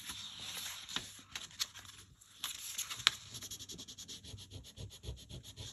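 An eraser rubs back and forth across paper to lift off marks, producing a quick, close, rhythmic scrubbing with short pauses between bursts of strokes.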